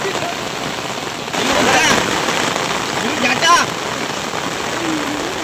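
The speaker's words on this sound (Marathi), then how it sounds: "खूप पाऊस पडत आहे" Heavy rain pours at a dam, a dense continuous hiss of drops striking surfaces that swells louder after the first second, with faint voices and brief tonal chirps mixed in under the downpour.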